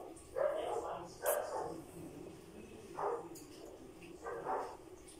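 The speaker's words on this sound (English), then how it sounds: "Wait, what's going on with the dogs?" Dogs barking in separate bursts at a moderate distance, four or five short outbursts spread across the moment, with a quiet indoor background between them.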